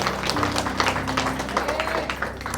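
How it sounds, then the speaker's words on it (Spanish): A church congregation applauding during a service, a dense, continuous patter of many hands clapping with voices mixed in, filling the room at steady strength. "Dale un aplauso bien fuerte al Señor"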